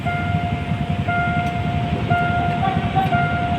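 Passenger train 388 arrives at Asok halt in Thailand, passing close by with a low rumbling roll and a steady sustained horn-like tone running through it, loud and continuous.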